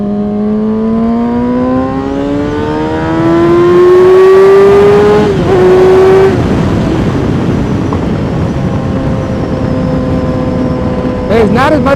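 A Kawasaki ZX6-R 636 sport motorcycle revs loud and close while riding, its engine pitch climbing steadily through a gear, dropping at a shift, then holding steady, with wind rush throughout.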